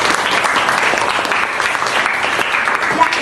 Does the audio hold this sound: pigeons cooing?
no